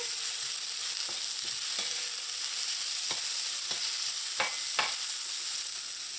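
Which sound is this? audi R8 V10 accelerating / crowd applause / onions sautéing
onions sautéing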